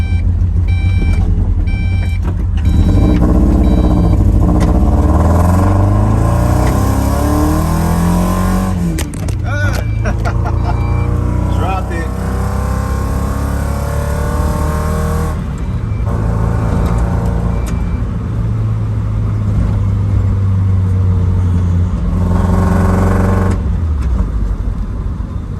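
A modified Mazda Miata with a Eunos body kit revs hard while driving, its engine note sweeping up and down through repeated loud pulls, with steady road and exhaust roar throughout.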